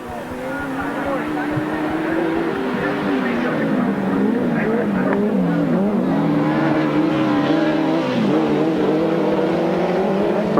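Grasstrack sidecar racing machines run flat out down the straight at a 1993 meeting, a loud, sustained engine drone that rises and falls in pitch as they pass, under a commentator's voice.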